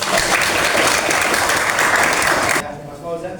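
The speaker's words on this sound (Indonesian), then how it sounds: "tepuk tangan dulu untuk" Students in a classroom give a dense burst of clapping that fills the room, then it cuts off abruptly near the end as a voice begins speaking.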